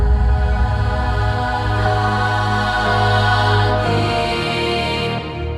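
Rodope choir sample library voices sustaining a dense, loud choral chord with reverb switched on, the held tone swelling continuously and leaving a longer tail at the close.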